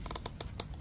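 A camp knife with a 5-inch CruForgeV steel blade slices through paper in a sharpness test, giving several quick, crisp swishing cuts in a close, brief burst.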